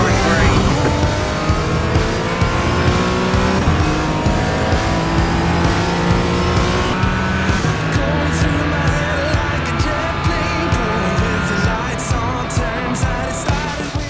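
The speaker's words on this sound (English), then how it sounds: "So after role-playing Latifi, it was time to get onto the race, and I was starting last" A race car in the iRacing sim, a car a little more powerful than an MX-5, drives a race from the back of the grid, its engine droning steadily and loudly with shifting pitch and some tire squeal throughout.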